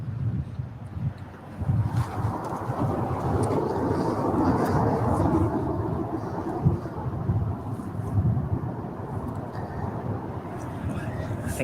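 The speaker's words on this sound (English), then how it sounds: "let's swing the camera back for the arrival as we get ready for the Turkish Airlines" A Turkish Airlines Boeing 787 Dreamliner arriving at LAX makes a low, rumbling jet roar that swells and persists with a gusty, wind-buffeted texture, heard from outdoors near the airport.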